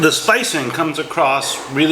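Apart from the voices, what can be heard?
No everyday noise stands out behind the speech.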